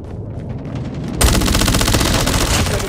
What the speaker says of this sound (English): We have called in a strafe run.